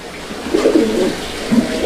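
A pigeon coos in low, soft throaty phrases at a pigeon seller's loft, two bursts close by with a faint background hiss and no talking.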